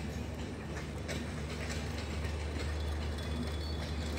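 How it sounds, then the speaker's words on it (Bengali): A long passenger train with many coaches rolls steadily past at Noapara railway station in Bangladesh, a loud, continuous rumble of wheels on track with faint clickety-clack and no voices. "তো বন্ধুরা দেখেন কত বড় ট্রেন, অনেক গেসিক বগি আছে এই ট্রেনে,"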